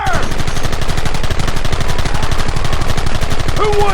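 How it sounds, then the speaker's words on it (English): Gunfire in the Western shootout game Red Dead Redemption, loud rapid bursts of shots layered into a continuous barrage, with faint voices shouting behind the shooting. "Open fire!"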